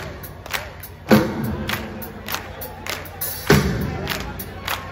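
A crowd at a live music show claps along in rhythm, with regular loud beats over a noisy background and occasional cheers.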